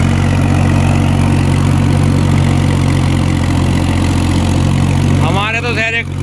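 A 35 horsepower tractor engine idles steadily and loudly close by, its low throb continuous throughout, with a voice speaking briefly over it near the end.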